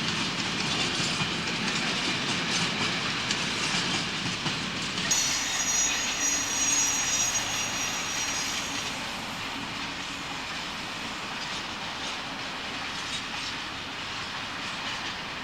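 A train from Leeds runs steadily across the 13-arch stone viaduct at Chapel Milton, bound for the Dove Holes quarry, with continuous wheel rumble and clatter, a brief high wheel squeal partway through, heard from the lineside.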